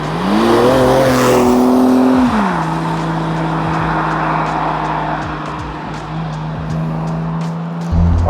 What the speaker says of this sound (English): let's take this car out for a spin, see what the Tiptronic's like on the road, and meet the owner, Steve.